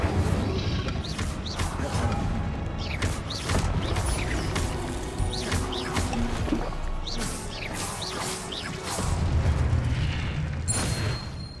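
Fire spell Incendio cast in Hogwarts Legacy during combat: bursts of roaring flame and booming impacts repeat in quick succession, mixed with other spell effects and a steady background rumble.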